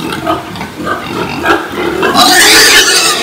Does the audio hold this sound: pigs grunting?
yes